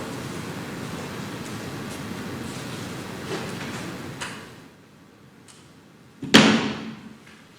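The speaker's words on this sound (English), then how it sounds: "I think I should close the door." A door is pushed shut in a room during a lecture, a single sharp slam near the end after a stretch of soft room noise and shuffling.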